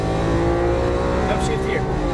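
A Lamborghini Aventador accelerating at full throttle on a Las Vegas racing track, its loud engine roaring steadily close to the microphone with rising harmonic whine, while a voice talks over it.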